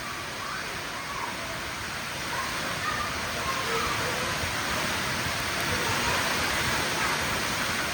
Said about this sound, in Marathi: पाणी वाहिले खाळ खाळ खाळ खाळ खाळ खाळ